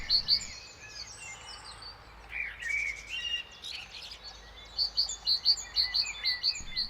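Small songbirds chirp and trill in a spring garden at a Nordic cottage, with repeated bright high calls that build toward a rhythmic run of sharp notes near the end, set against a quiet outdoor background.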